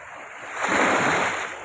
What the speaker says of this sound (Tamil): அலை சும்மா கடல் அலை மாதிரி சல்லு சல்லு சல்லு சல்லு சல்லுன்னு அந்த அடிக்குது